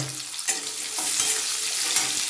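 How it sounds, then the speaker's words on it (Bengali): Bitter gourd fries in oil with salt and turmeric in a pan, giving a steady close sizzle and crackle throughout. A stirring scrape comes in near the start. "আমি এর মধ্যে উচ্ছেগুলো ভেজে নেব একটু নুন আর একটু হলুদ দিই"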